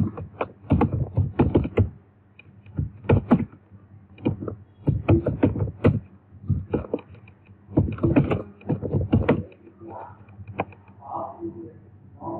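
Close, uneven bursts of typing on a computer keyboard, clusters of quick key clicks separated by short pauses, with someone speaking Bengali now and then between the bursts.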